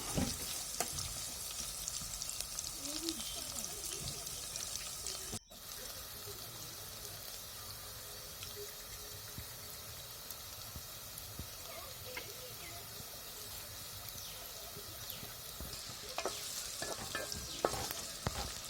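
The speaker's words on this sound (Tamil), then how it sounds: "வெங்காயம் நல்லா வதங்கட்டும்" Onions sauté in a pan for a Tamil madavai fish curry, giving a steady close frying sizzle and hiss throughout, with occasional stirring scrapes and a brief dropout partway.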